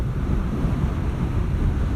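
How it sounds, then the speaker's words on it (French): Steady low roar of wind buffeting a helmet while riding a BMW R12 nineT motorcycle at speed, loud and continuous with no talk. "on aura quand même beaucoup de bruit d'air dans le casque, on en a déjà pas mal là"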